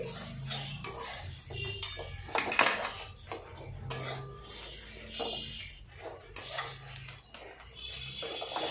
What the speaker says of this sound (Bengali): আর একটু নাড়াচাড়া করেই আমি এটাকে নামিয়ে দেবো।